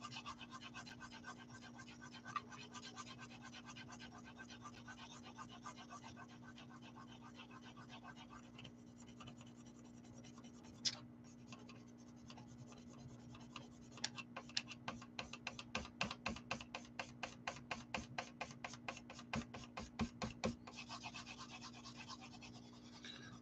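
Graphite pencil strokes scratching across paper while shading water beneath a drawn waterfall, a steady soft scraping that turns into a run of quick, close rhythmic back-and-forth strokes near the end, with a low hum underneath.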